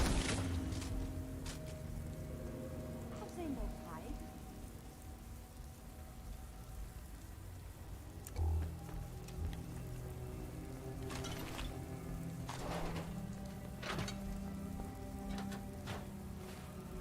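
Steady rain in Fallout 4 hisses continuously throughout, a dense, moderate wash of falling water with a few brief clicks and a low thump partway through, and no voices.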